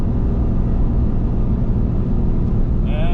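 A Ram 3500 dually's engine holds 3rd gear around 40 mph while towing a CAT 310 excavator, giving a steady, loud, close low rumble that drones on without a break.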